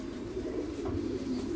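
A four-month-old pigeon gives a soft, low cooing call, fairly quiet and close, over a faint background hum.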